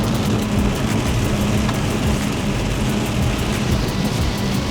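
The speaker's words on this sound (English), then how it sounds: "Oh, it's raining." Steady rain falls at the Grand Canyon in Arizona, a loud, even hiss with no break from start to finish and no voices.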